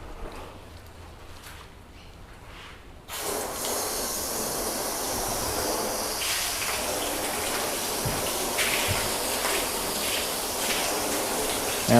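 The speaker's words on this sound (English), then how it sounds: "And now we'll rinse that off." Water rinsing sealant residue off a surface during a graphene sealant test, a steady broad hiss of spray that starts abruptly after a quiet moment and runs continuously at fairly close range, with no talk.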